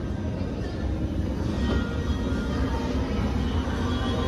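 Steady low rumble of a Kolkata Metro train riding from Dum Dum, a continuous close drone heard from inside the car with no talk.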